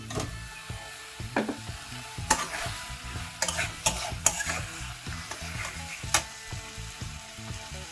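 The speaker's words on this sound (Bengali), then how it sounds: "এই সময় আমি ভেজে রাখা কাঁচা কলা আর আলুটা দিয়ে দিচ্ছি।" Fried green banana and potato pieces stirred into a cooked-down, oily Bengali curry masala, giving a soft continuous sizzle with irregular clacks and scrapes of a spatula against the pan, close up.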